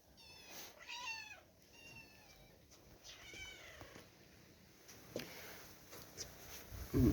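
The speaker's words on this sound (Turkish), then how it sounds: "Mır mır mır şunun mırıldaşına şuna bak mırıldanışına" A cat meows softly several times in a quiet room, with faint purring and small chirps between the calls.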